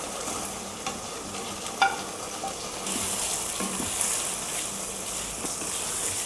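Paneer frying in ghee in a pan gives a soft, steady sizzle close by. A spoon stirs now and then, and a single light clink sounds.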